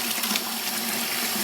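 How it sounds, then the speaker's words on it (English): Cool tap water runs steadily from a faucet into a brewing bucket while making a chocolate cherry stout, a continuous close, even splashing rush with no pauses. "start hitting the bucket with some cool water here, straight from the tap"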